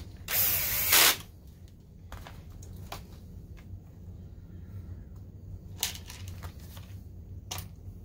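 Screws are driven into metal threads inside a Smart SLR60Wi DLP projector, with one short close whirring burst from a driver followed by scattered faint clicks and ratchet ticks against a quiet hum.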